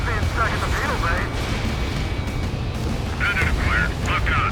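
Explosions rumble as harbor facilities are destroyed in the combat flight game Ace Combat 7, low booming blasts under jet engine noise, with radio chatter voices over the top.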